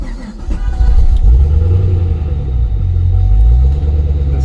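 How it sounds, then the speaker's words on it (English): A built, twin-turbocharged car engine with a cam runs steadily close by, a deep, rough low rumble holding throughout with no clear revving. "the engine's built, it's twin turbocharged, and everything works"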